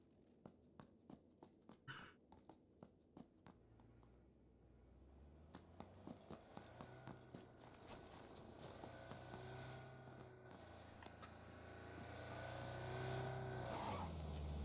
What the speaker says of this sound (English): Bring this vehicle over.